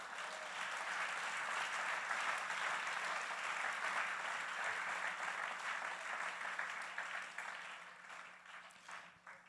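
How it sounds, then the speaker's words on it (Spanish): A church congregation at a sermon applauds Jesus in a long, sustained burst of many hands, steady and full before fading toward the close. "Denle fuerte ese aplauso a Jesús"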